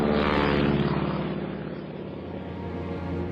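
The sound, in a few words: Sopwith Camel propeller airplane taking off from battleship platform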